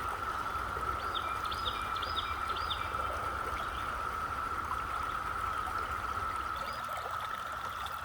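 Steady running water of a creek, a continuous even rush with a bright hiss, with a few faint bird chirps in the background.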